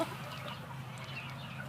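Kelso gamefowl roosters at a farm, faint clucking and soft bird calls over a steady low background murmur, distant and quiet.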